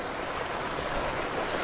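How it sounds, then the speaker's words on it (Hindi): Steady rushing water falling at the Rudradhari waterfall on a trek near Kausani, a dense, constant roar with no voices over it. "पानी गिरने की आवाज़ आ रही होगी।"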